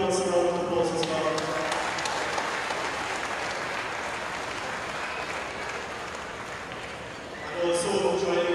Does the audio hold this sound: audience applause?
yes